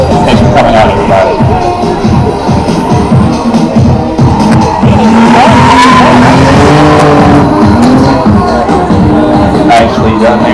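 A black BMW drift car slides around a course with loud, continuous engine roar and tire squeal, heard close at a competition event with faint crowd noise underneath.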